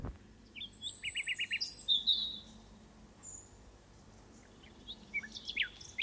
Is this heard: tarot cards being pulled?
no